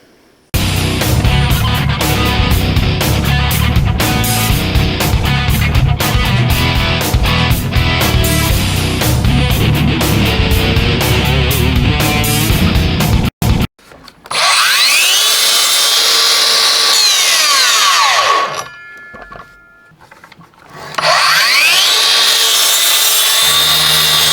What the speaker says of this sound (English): this is Makita's 40 volt GSL02 8 and 1/2 or 216 millimeter dual bevel compound miter saw.